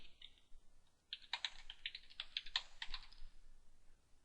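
Soft, quick keystrokes tapping on a computer keyboard in short irregular bursts, close and quiet, with brief pauses between runs.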